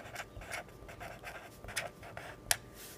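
Writing by hand during a Class 6 maths lesson, with soft scratchy pen or pencil strokes in short irregular bursts and an occasional sharper tap, quiet and close with no speech.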